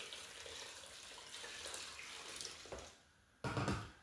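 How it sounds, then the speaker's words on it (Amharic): Water runs steadily into a cooking pot holding cut potatoes for boiling and mashing, a continuous splashing pour that pauses briefly, then returns louder at the end. "ከዛ ውሃ ጨምረን በደንብ"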